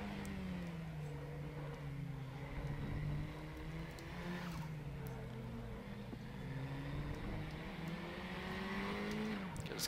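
A turbocharged KTM race car with a short wheelbase runs at the Lausitz track in the RaceRoom racing game, its engine a steady, buzzing whine that climbs and drops through gear changes for ten seconds, with faint wind noise underneath.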